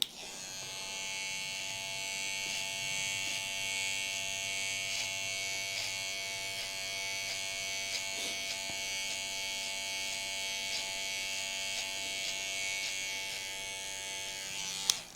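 Electric hair clippers buzz steadily and close up while fading a beard after a haircut, a continuous high whine lasting the whole stretch with only slight shifts in pitch and no voices.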